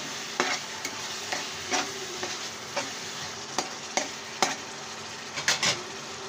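Chopped tomatoes just added to a hot pan are stirred as they fry, a steady sizzle broken by sharp scraping strokes of the spoon at irregular intervals, close and alone without talking.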